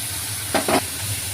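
Ground spice paste dropped into hot oil with fish, dry red chillies and cumin: a brief loud hiss in two quick bursts over a steady background sizzle.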